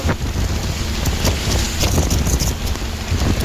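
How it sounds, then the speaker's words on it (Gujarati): Heavy monsoon rain during a drive on a ghat road near Songadh and Vyara, Gujarat, a dense, loud, continuous roar of rain and wind against the vehicle. "જોવો આ એવો વરસાદ પડે"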